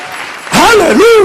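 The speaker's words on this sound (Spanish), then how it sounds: "Dale ese aplauso de alabanza al Señor Jesucristo." Church congregation applause of praise breaks out suddenly and loudly, with a preacher's voice calling out over the clapping.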